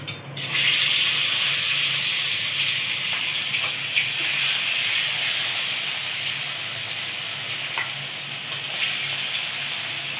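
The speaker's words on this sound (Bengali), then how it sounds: "তেল গরম হয়ে গেছে, এবার মাছগুলো ভেজে নেব।" Pieces of catla fish sizzle in hot oil, a steady loud hiss and crackle that begins abruptly and continues throughout, with small pops scattered through it.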